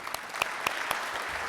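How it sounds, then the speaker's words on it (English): A short burst of steady applause fills the room at a Rotary club meeting, many hands clapping together for a second and a half. "I wanted to give a round of applause to Enquirer Media and Jenny Key"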